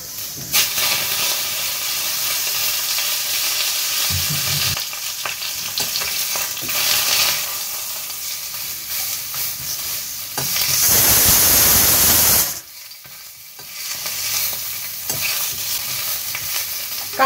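Bengali fish curry (macher jhal) cooks in a pan with a steady broadband sizzle and stirring, swelling into a louder hissing burst near the middle before settling back to a softer, continuous fry.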